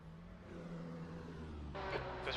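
A group of faster race cars comes up and passes in a racing video game, the engine drone building under a constant hum and ending in a louder, brighter whine as they close in.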